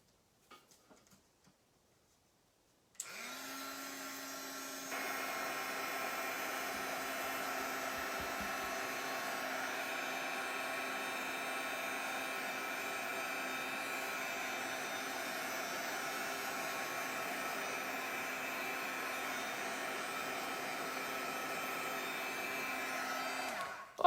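A heat tool blows steadily to dry red Pentart Dekor Soft paint on a mixed media card, starting abruptly after a near-silent moment and running as a loud, continuous whirring hiss with a slight step up in level soon after it begins.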